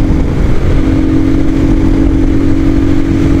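A Royal Enfield Himalayan Scram 411 motorcycle drones at highway speed in fourth gear, its engine a loud, steady, close hum layered under heavy wind rush with no talking.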